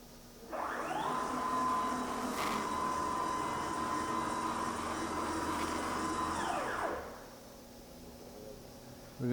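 A spindle on a Multicam 80 by 144 inch CNC router starts up: a loud, steady whine rises quickly, holds evenly for about six seconds and then winds down, with no talk over it.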